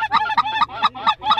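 Snow geese honk during a hunt: a rapid run of loud, close, nasal honks that repeat in quick succession.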